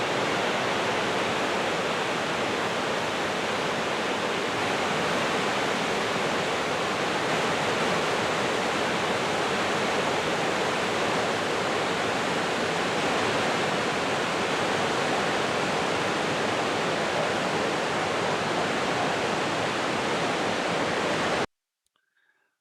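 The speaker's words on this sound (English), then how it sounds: "here's a video of these extensive, thunderous waterfalls" Dense, roaring rush of a wide waterfall on the river at Idaho Falls, Idaho, constant and loud without pause, ending abruptly near the end.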